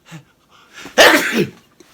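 A single sharp sneeze, preceded by a quick inhale, loud and close, with brief quiet before and after.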